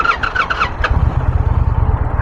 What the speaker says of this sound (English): like the sound of that engine. It sounds very sporty.